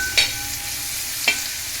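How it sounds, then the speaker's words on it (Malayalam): Vegetables, including carrot, stirred in a pan with oil for egg fried rice, a continuous bright sizzle broken by two brief scraping clinks of the utensil, close and without talk. "അത് ഇട്ട് ഒന്ന് ഇളക്കി കൊടുക്കണം"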